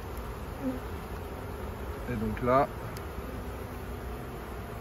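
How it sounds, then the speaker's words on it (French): Honeybees buzz around a queen cage set into an artificial swarm, a steady insect drone with a louder pass of a bee near the end; someone speaks briefly over it. "Et là on va commencer à avoir les abeilles qui vont venir autour de la cagette."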